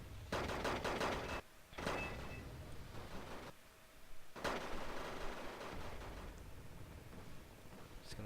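In the Wargame Red Dragon video game, bursts of gunfire and artillery blasts rattle in quick clusters with brief gaps between, a dense, steady battle din.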